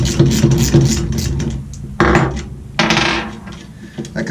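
A 13mm socket loosening the axle lock nut on a bass drum pedal, with loud close metallic clicks, ratcheting and clanks of hardware being handled.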